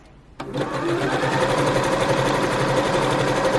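A sewing machine runs a zigzag stitch on bunting fabric, starting after a short quiet pause and then chattering steadily and rapidly at close range with no talking.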